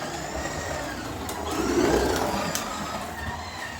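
A Carrera 1:24 BMW M4 slot car lapping a track, its small electric motor giving a steady, buzzing whine that swells briefly as the car passes closest, then eases off as it slides through corners.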